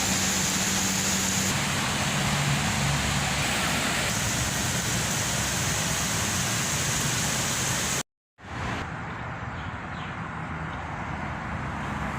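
Steady, dense hiss of rain falls without pause, briefly cutting out near the end before resuming at a similar level.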